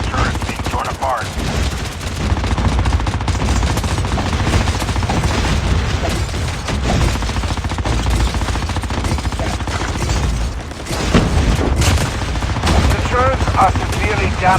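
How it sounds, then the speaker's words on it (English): Loud, nearly continuous gunfire from Call of Duty tears into a turret, with rapid automatic bursts and booms packed densely throughout. "Watch out, your turret's being torn apart."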